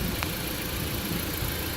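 A 2008 Jeep Patriot's 2.4-liter four-cylinder engine with variable valve timing idles steadily, a smooth, even hum heard alone and close.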